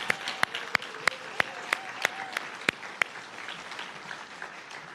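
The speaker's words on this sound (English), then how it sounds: "let's give one more round of applause for Steve McIsaac" Scattered applause from a thinning crowd at an awards ceremony, with a dozen or so sharp, distinct claps standing out over a softer background patter that fades toward the end.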